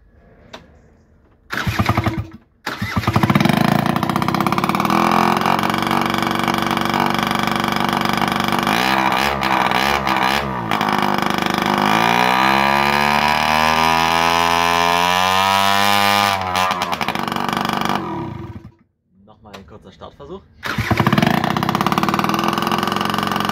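The small engine of a Piaggio Quartz scooter sputters to life after a few tries, then runs and revs up and down with a buzzing, rising pitch before cutting out and restarting.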